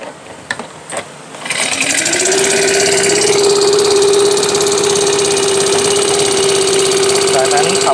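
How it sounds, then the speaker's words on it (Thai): A Chinese GX35 four-stroke engine on a brush cutter or fertilizer sprayer, with a few quiet clicks of the starter before it fires about 1.5 seconds in, then settles into a loud, steady, buzzing idle close up. "ขั้นแรกนะครับสตาร์ทเครื่อง"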